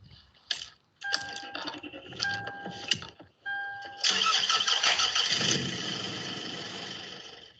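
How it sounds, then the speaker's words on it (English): Car engines crank with short, stuttering starter bursts, then one catches and runs loud and steady, a busy everyday start-up on roads in Kent. "Every day, hundreds of thousands start their engines and head out on Kent roads"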